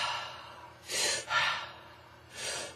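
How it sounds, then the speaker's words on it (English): A few slow, deep breaths, drawn in and let out softly and close, with breathy airy rushes separated by quiet pauses. "Couple of deep breaths"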